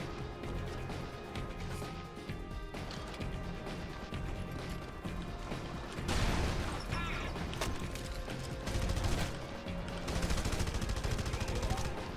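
Sustained gunfire in the Red Faction shooter game: dense, continuous bursts of shots and crashing impacts over a steady layer of game noise, with louder volleys near the middle and end.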